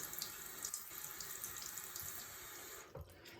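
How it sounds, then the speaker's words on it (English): Tap water runs steadily into a sink as a dug-up, dirty penny is rinsed, a constant hiss and splash that falters briefly near the end, with no voices. "I'm going to rinse off this penny here, some more running water."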